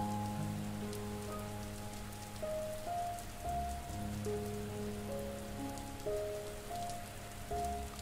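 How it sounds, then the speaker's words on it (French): Steady rain falls across a surface, a dense, even patter that holds for the whole stretch, with a low, faint tonal drone running quietly beneath it. "Le son de la pluie"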